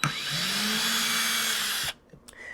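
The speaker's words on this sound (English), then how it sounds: "if you're unscrewing, this little button here can now unscrew" A handheld power drill runs steadily in reverse to back out a screw, a loud continuous whir lasting nearly two seconds before it stops abruptly, leaving faint handling noise.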